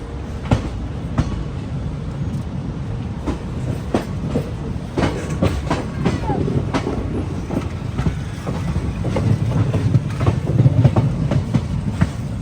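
Bilaspur Express passenger train running on rails, a steady rumble with rhythmic wheel clicks over rail joints throughout, loud and close from on board.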